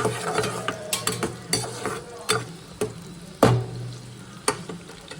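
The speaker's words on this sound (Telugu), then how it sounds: "ఆనియన్ వేసి ఫ్రై చేసుకోవడమే" Onions with green chilies fry in a pan, a close sizzling hiss punctuated by regular scraping stirs and sharp clinks of a utensil against the pan, one louder knock near the end.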